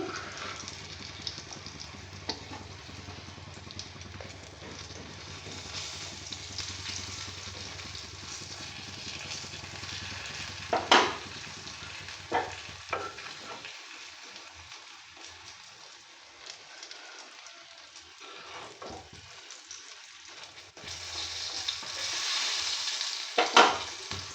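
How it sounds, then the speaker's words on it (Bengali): Slices of pointed gourd fry in oil in a pan while being stirred: a steady close sizzle with scraping stir strokes and occasional sharp clicks. The sizzle dips quieter midway, then swells louder near the end. "হয়ে গেছে আমার পটলগুলো ভাজা আমি এটা তুলে নিচ্ছি"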